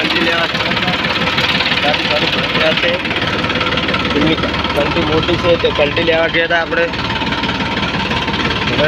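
A tractor engine runs steadily at close range, loud and continuous with a knocking, vibrating diesel rumble throughout on a farm during wheat and fertilizer work.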